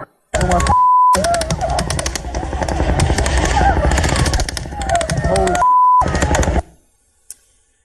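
Sustained bursts of automatic gunfire crackle loudly and almost continuously for several seconds, with two brief gaps marked by a steady beep tone, then cut off abruptly into near silence.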